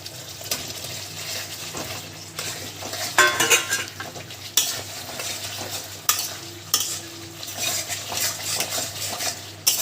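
Potatoes are stirred into a yogurt masala simmering in oil for jackfruit kofta curry, with soft sizzling, scraping spoon strokes and several sharp metallic clinks against the pan at irregular intervals.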